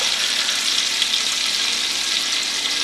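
A pork chop sizzles loudly and steadily in a frying pan, a constant crackling hiss close up with no voices.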